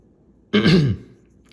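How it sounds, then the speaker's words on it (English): One short, gravelly throat clearing up close, a single rough rasp lasting about half a second, with near silence before and after. "I had to clear my throat"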